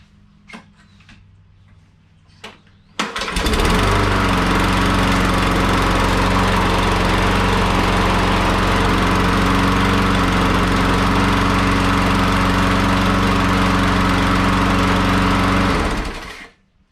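A Briggs and Stratton lawn mower engine fitted with an aftermarket carburetor starts abruptly after a few faint knocks, then runs loud and steady near at hand for about thirteen seconds before cutting off.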